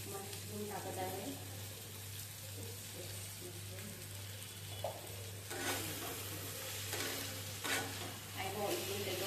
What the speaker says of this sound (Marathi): आता मी उरलेला आपला कापलेला एक लास्ट इन्ग्रेडियंट मशरूम टाकत आहे.